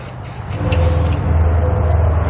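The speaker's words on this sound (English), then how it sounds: "I'm going to take some general purpose lubricant here. I'm just going to try to spray it in between the cup and the spring there" General purpose lubricant is sprayed from an aerosol can between the cup and coil spring on a 2019 Chevrolet during an air helper spring install, giving a close, steady hiss that starts a moment in and runs continuously.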